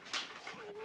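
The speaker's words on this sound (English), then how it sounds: "Nice dog." A dog gives a short, high whimper or yip, close and fairly clear, in an episode of the television drama Kolchak: The Night Stalker.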